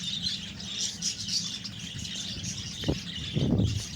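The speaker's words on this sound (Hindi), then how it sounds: "सुनिए आवाज़, ये मुझे तोते बहुत ही प्यारे लगे।" Bright bird chirps and squawks from parrots at the PAF Museum park in Karachi repeat over a quiet outdoor background, with a couple of soft thuds near the end.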